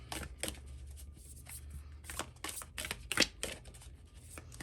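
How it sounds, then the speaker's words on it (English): Tarot cards being shuffled by hand in a series of short riffling bursts, close and crisp, with brief pauses between them. "Do one more shuffle."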